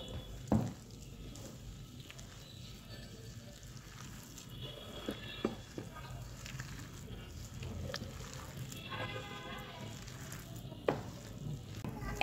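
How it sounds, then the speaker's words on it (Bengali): Batter for mustard-flower fritters mixed by hand, with ground spices, ginger-garlic and cumin paste, chopped coriander, rice flour and salt, giving soft wet squishing and squelching, close and quiet with a few light knocks. "সবগুলো উপকরণকে আগে একসঙ্গে মাখিয়ে নেব"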